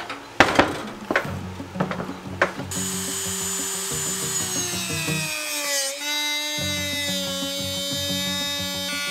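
Power tool cutting and trimming a Sprinter van seat base, a few sharp rough knocks and scrapes followed by a loud sustained whining cut that dips briefly and resumes, close and alone.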